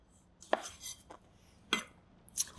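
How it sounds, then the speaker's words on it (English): A knife slicing food in half on a cutting board: three sharp, separate cuts spaced about a second apart, close and clear with a quiet background. "I'm just slicing these in half"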